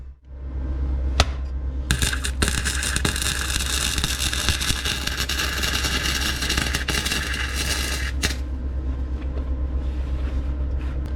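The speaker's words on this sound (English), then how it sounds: "apparently it's really hard to weld left-handed" An arc welder works on leaky exhaust headers of a BMW E46, giving a loud, continuous close crackling hiss with brief pops, steady for about ten seconds after the arc strikes.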